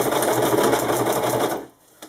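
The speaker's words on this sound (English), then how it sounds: "Sewing through the Velcro and the elastic and run that stitch all the way down to the bottom." A sewing machine stitches through Velcro and elastic while making a wing-style magazine pouch, running a steady, close, loud rapid needle rhythm for about a second and a half before stopping, with a faint click at the end.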